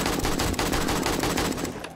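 Rapid bursts of gunfire from the survival video game 7 Days To Die, set at a snowy pirate ship base, crackle loud and close in an almost continuous volley before cutting off.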